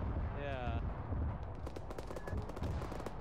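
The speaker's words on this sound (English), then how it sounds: "Those are the rockets and artillery shells being fired back at the tanks." Rockets and artillery shells fire in the military combat game Arma 3, sounding as a dense, continuous rumble of distant gunfire and launches with sharp transient cracks, a brief whistling tone early on.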